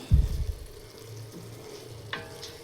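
Chicken frying in a pan beside a rice cooker, a loud sizzling burst at the start that settles into a steady soft crackle, with a small clink near the end.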